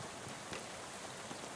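Rain falls steadily in the video game Shadows Over Loathing, a constant soft hiss of drops without a break.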